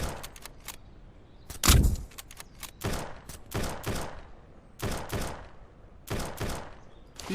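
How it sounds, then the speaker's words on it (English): Gunfire in the survival video game SurrounDead from a military group, sharp irregular shots and short bursts that crack loudly in clusters across several seconds, with no voices. "these guys are shooting everybody up"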